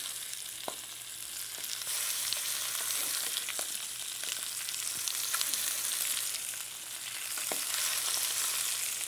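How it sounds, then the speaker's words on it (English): Chicken sears in a pan for slow-cooked chicken with 40 garlic cloves, giving a loud, continuous sizzle with scattered pops and crackles. It swells and fades slightly throughout, with no voices. "what we're doing here is we're searing the chicken"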